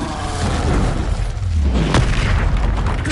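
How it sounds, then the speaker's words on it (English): An Incendio fire spell cast in the Hogwarts Legacy video game gives a loud, dense roaring whoosh of flame that holds steady for about three seconds, with a sharp burst near the middle. "Incendio!"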